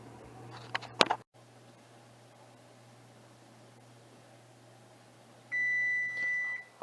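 A kitchen oven timer beeps after a batch of homemade brownies bakes, a steady high electronic tone lasting about a second near the end after a quiet hum, preceded by a brief clatter.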